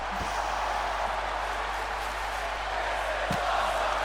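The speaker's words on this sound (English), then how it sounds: "The crowd chant "This is awesome," who are loving it now." A large arena crowd in the WWE 2K24 wrestling game roars and chants steadily during a Raw match, a constant dense wash of voices with a couple of faint thumps.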